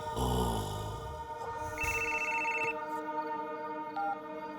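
A telephone rings during a call, a short electronic ringtone over background music in a Hindi film scene.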